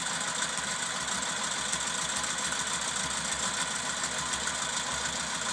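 A sewing machine runs steadily while stitching during ruler quilting, giving a continuous even mechanical hum at moderate loudness with no talk.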